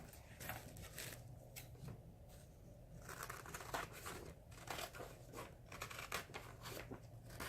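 Scissors or a blade snip through a paper mat board for a cheap framed print, a run of close, crisp cutting strokes in uneven rhythm over a low steady hum.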